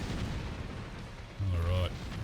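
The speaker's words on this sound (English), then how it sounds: "quite a lot of explosions there. Okay. Oh! Lots of missiles." Explosions and missile blasts from the helicopter combat game Thunder Wolves rumble as a dense low-frequency barrage, with a louder, sustained burst near the end of the short stretch of battle noise.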